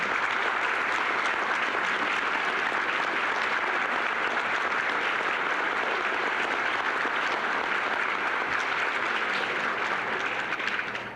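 Sustained, dense applause from a standing audience at a Sunshine Foundation event in New Jersey, loud and steady throughout with no talk over it.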